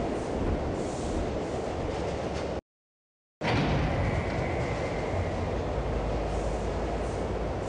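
Steady rumbling of a tram ride in the game Half-Life: Visitors, a loud continuous rolling drone with a faint rising whine, broken once by a brief silent gap.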